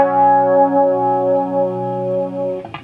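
Electric guitar run through a chorus effect, strumming a sustained chord shape from a song; one ringing, shimmering chord held steady for over two seconds, then a brief scrape of fingers on the strings as it's released.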